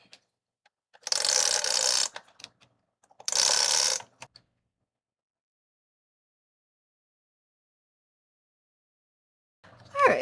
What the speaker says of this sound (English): I'm just going to put this on with tape runner.